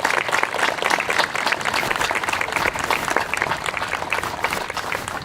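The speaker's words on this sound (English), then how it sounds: "we have a round of applause for Casey Franklin for singing the national anthem for us this morning" Sustained applause from an audience at a Masonic lodge flag retirement and community service awards event, honoring a national anthem singer; dense, steady clapping from many hands throughout, with no talk over it.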